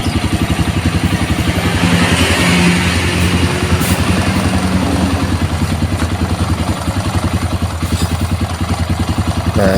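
An old motorcycle engine runs steadily for the whole stretch, a close, loud, even idle with a rapid throbbing pulse and metallic clatter over the top.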